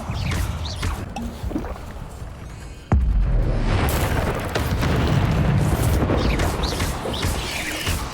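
A fire spell cast in the Hogwarts Legacy video game: a sudden loud burst of flame erupts and keeps roaring as a dense whoosh, preceded by quieter ambient game sounds.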